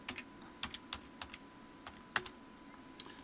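Keys tapped on a Compaq CQ45 laptop keyboard while logging in on Void Linux, sounding as quiet, irregular clicks in short bursts with a steady faint hum underneath and no talking.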